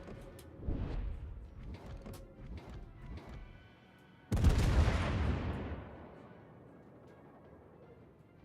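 Heavy naval artillery fire from warships in World of Warships, a sudden loud boom at mid-clip with a long rumbling decay, preceded by quieter clatter and muffled battle noise.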